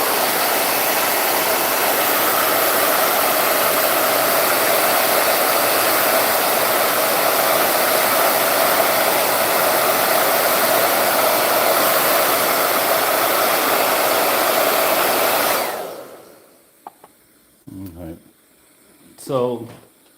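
A hair dryer blows steadily and loud on a painting in progress, a constant broadband whoosh for about fifteen seconds before it cuts off, followed by quiet room sound with a few short speech sounds.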